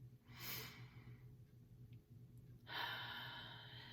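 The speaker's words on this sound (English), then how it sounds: "So let's take a nice couple of deep breaths here." Two slow, deep breaths during a guided meditation, each a soft airy rush of inhaling or exhaling separated by a quiet pause over a low steady hum, close and gentle.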